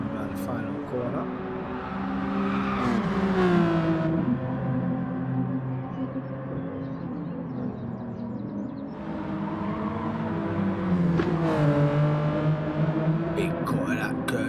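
Race cars on a track during a Grand Master series race, engines rising and falling in pitch as they pass through corners, steady and fairly loud beneath continuous commentary.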